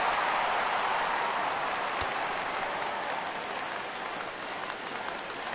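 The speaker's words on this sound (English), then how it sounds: "Crowd gets up for the 3-2." Crowd noise in a baseball video game swells as the count runs full at 3-2, a steady broadband roar of cheering with a brief sharp clap near the middle, fairly loud and continuous throughout.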